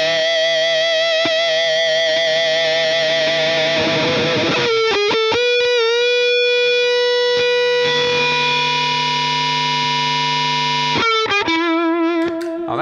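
An electric guitar played through a Klon-style clone overdrive pedal gives sustained, mildly distorted chords that ring out loud and close, changing a few times, with no talk over the playing.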